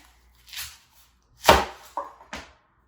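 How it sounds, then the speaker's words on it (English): A knife slicing a white onion in half end to end on a cutting board: a few short, crisp cuts and one louder chopping thud, close and otherwise quiet. "you always wanna cut it end to end, and we'll go down the center"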